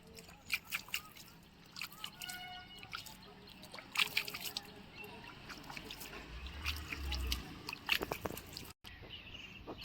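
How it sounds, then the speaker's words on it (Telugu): Water from a watering can trickling onto freshly sown cluster bean seeds in containers: faint, irregular drips and splashes with a light, uneven trickle, quiet and close, with no talking. "విత్తనాలు పెట్టిన వెంటనే కొంచెం వాటర్ని పోసుకుంటే"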